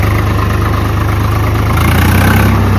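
A tractor engine idles steadily while ploughing a field, a loud, continuous low diesel rumble with a constant throb and no voices over it.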